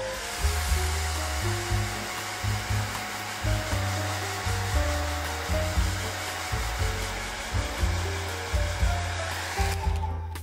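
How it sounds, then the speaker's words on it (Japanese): A hair dryer blows on watercolor pencil paint, a loud steady airy whoosh running for several seconds with rhythmic pulsing as it is moved, then cut off at the end. "これくらいに溶けたらドライヤーで乾かします。"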